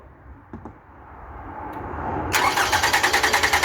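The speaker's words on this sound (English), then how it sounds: "Right, crank the engine over." A Toyota Camry engine is cranked over by its starter motor, building from a low rumble into a loud, rhythmic chugging with regular pulsing beats that continue to the end.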